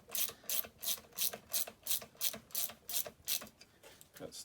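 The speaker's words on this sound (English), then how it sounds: "as you do them up, just do them up until they're just touching the pump case" A ratchet wrench snugs down the bolts on an outboard motor's pump case, giving about a dozen regular, rhythmic clicking bursts close to the listener with no talk.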